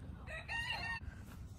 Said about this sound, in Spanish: Y andan allá unas gallinas en el corral